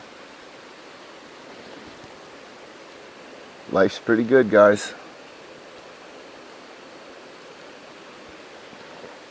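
A brook flows through a forest with a steady, soft rushing wash that holds constant throughout, while someone speaks briefly over it partway through.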